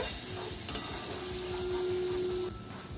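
Potato curry with tomato paste, salt and chilli powder sautéing and being stirred in a pan, a steady close sizzle with a few utensil scrapes that drops slightly in level near the end; no talking.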